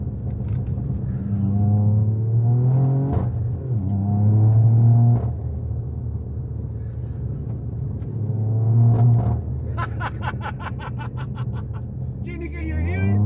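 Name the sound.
straight-piped Toyota Yaris GR engine with anti-lag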